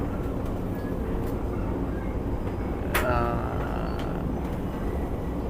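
Steady low rumble of a Malaysian Jungle Railway train running toward Johor Bahru, heard from inside the carriage as a constant close drone with brief clicks and a sharp knock.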